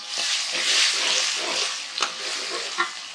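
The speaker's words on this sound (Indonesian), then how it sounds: "Kita tumis bawang merah, bawang putihnya dulu sampai harum." Shallots and garlic sauté in a hot pan with a steady, bright sizzle, broken by a couple of sharp utensil clinks against the pan as they are stirred.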